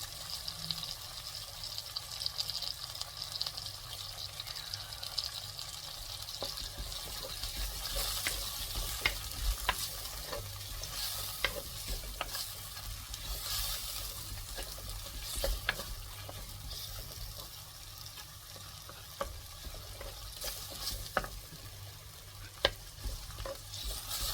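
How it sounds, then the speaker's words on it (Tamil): Onions and curry leaves sauté in a pan, a faint steady sizzle with intermittent scraping and stirring of a utensil against the metal, close and low in level. "வெங்காயம் கொஞ்சம் நல்லா ப்ரௌனாக வர வரைக்கும் வதக்கி எடுத்துக்கலாம்."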